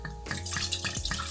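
Red, white or sparkling wine is poured into a carafe or glass to decant it, giving a steady close liquid stream with gurgling bubbles and no voices.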